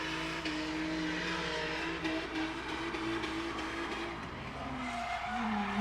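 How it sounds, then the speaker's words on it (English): A drift car at a GripStarz event revs hard into its rev limiter while the tires squeal. The engine note wavers up and down over continuous loud skidding noise, with no talking. "Clutch and a rev limiter."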